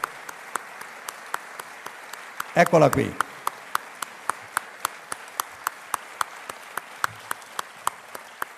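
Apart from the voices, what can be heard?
audience applause for a former Luxottica worker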